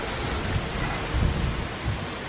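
Heavy rain roars steadily during a severe storm, with deep rumbles of thunder rolling underneath, swelling briefly in the middle.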